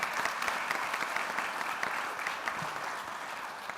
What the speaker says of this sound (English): please just give yourselves a round of applause for helping to create the journey for these students